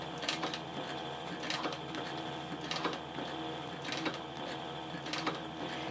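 A sewing machine stitches a handbag about an eighth of an inch from the edges, running in short repeated bursts with sharp mechanical rattles, steady and fairly close.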